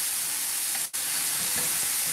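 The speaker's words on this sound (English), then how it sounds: "is just really focus on frying them kind of low and slow" Wild foraged mushrooms fry in a little oil in a pan over low heat, giving a steady bright sizzle, loud and continuous apart from one brief dip.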